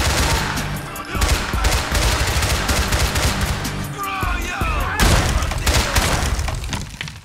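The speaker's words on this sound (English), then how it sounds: "somebody got a damn shotgun" Shotgun fire in the video game GTA 4 comes in loud, dense overlapping blasts that pile into a near-continuous barrage, with a short lull and scraping noises midway before the shooting resumes.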